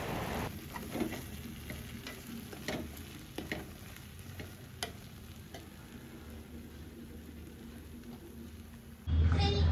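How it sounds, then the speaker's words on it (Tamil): Vermicelli upma fries in a pan and is stirred, making a faint, steady sizzle with soft scraping strokes and light clicks throughout, ending in a brief low clunk. "சேமியா உப்புமா தான் பண்ணியிருக்கேன்."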